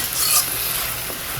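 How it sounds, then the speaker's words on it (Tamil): Black chickpeas and radish sautéing in a pan for a curry, a brief close sizzle with a stirring scrape near the start over a low steady hum. "ஒரு 2 நிமிஷம் வதக்கி விடலாம்."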